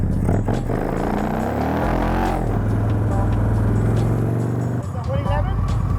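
An Indian Chief motorcycle with a 111 engine in a 1946 frame rumbles and revs nearby with a deep throbbing drone, while people talk over it.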